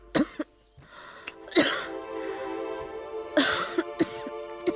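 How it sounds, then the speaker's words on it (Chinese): A woman coughs in a historical drama scene: a few harsh, close coughs come in separate bursts with short pauses, over a faint, steady background tone. "姐姐咳嗽得如此厉害，"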